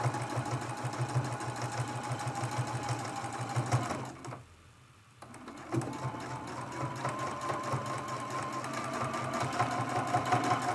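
Sewing machine hums steadily up close while stitching applique onto a teapot mug rug, pausing briefly near the middle before resuming its even rhythmic run.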